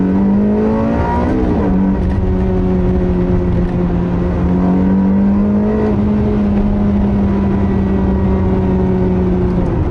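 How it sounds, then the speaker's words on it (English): A Ferrari 360 with an F1 gearbox revs steadily while driving, its engine note loud and close, climbing and holding a smooth high-pitched wail for the whole stretch with no speech. "One of the best sounds you'll hear in a car."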